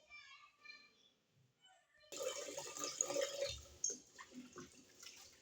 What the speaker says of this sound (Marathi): हे धुवून घेणार आहोत दोन ते तीन पाण्याने